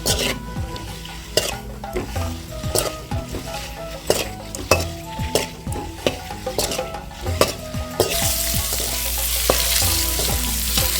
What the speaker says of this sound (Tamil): நல்லா வறுத்துக்குவோம்